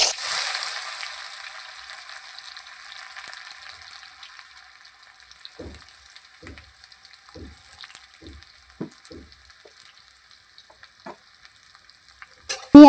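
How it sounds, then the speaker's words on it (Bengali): Onions frying in oil in a pan, a continuous close hiss of sizzling with a short run of soft knocks from stirring partway through and a louder clatter at the very end. "পেঁয়াজটাকে প্রথমে আমি একটু লাল করে ভেজে নেব"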